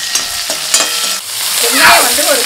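Dried red chillies fry in hot oil in a pan, a loud close sizzle with scraping stirs and a surge of crackling toward the end.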